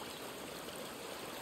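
A river flows steadily in the video game A Plague Tale: Requiem, an even, close rushing wash of water with no breaks and no voices.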